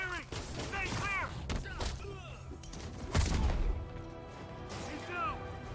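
Gunfire crackles in a Spider-Man PS4 fight, sharp bursts and thuds mixed with shouting enemy voices and game sound effects, with one heavier hit standing out midway.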